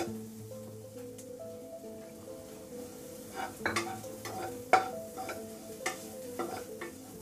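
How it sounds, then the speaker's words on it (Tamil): Egg dusted with chili powder stirred and fried in a pan for a drumstick-leaf poriyal, a soft sizzle with scattered spatula scrapes and taps growing louder toward the end, with a steady hum underneath. "இப்போ முட்டையை நல்லா ஃப்ரை ஆயிடுச்சு."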